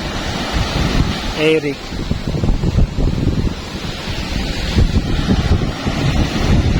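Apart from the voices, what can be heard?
big sea waves and wind during typhoon Kiko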